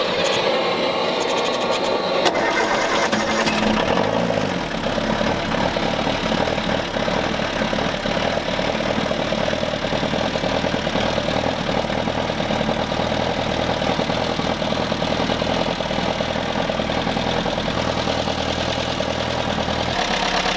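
Sailboat diesel engine, just repaired for a leak, cranks and catches after a couple of seconds, then settles into a steady, loud, close-up idle with a knocking rumble that runs on unbroken.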